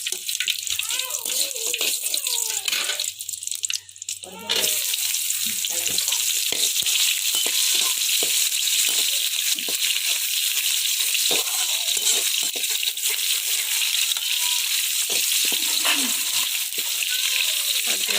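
Onions and curry leaves frying in a pan for a country-chicken egg curry, a steady loud sizzle with a brief drop near four seconds, then continuous hissing crackle throughout.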